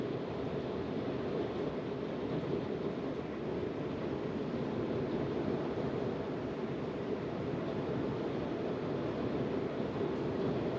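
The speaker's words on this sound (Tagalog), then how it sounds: "lumakas na ang hangin uli." Strong wind roaring steadily through a New Zealand forest during heavy rain, a dense continuous rushing with no letup, fairly close and loud, with no voices.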